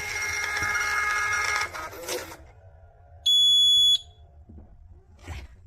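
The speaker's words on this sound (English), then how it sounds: "Did you hear the beep? If so, you've done it." A single steady electronic beep from a kitchen receipt printer's buzzer, clean and high-pitched, lasting under a second after a burst of rustling noise, in an otherwise quiet room.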